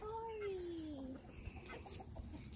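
A chicken on a home garden flock gives a couple of drawn-out, falling calls near the start, followed by faint rustling and soft clucks in the background.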